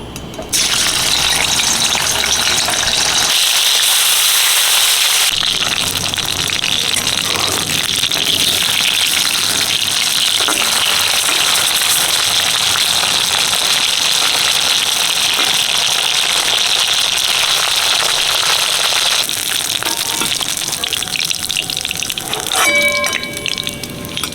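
Bamboo leaf fish frying in a pan, a steady loud broadband sizzle that runs almost unbroken throughout, with brief clinks of a utensil near the end.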